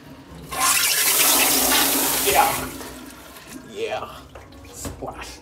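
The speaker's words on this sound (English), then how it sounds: "at least it has a good flush" A rare penguin-shaped toilet on a flushometer flushes with a sudden loud rush of water that lasts about two seconds. The rush trails off into splashing and dripping while people talk over the end.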